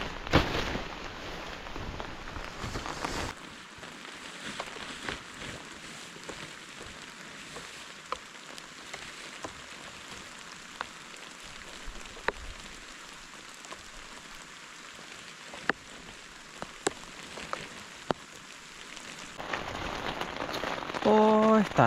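Heavy rain pours down on a forest camp beside a small river at night, a steady dense hiss of drops with scattered louder splats on nearby surfaces throughout.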